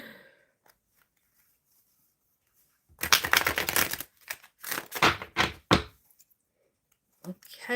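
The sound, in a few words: tarot cards being shuffled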